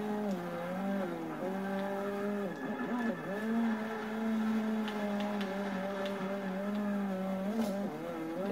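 A Honda car drifts in the racing game Forza Motorsport 6, its engine droning steadily with pitch dips and rises as the revs shift, and faint tire noise over it.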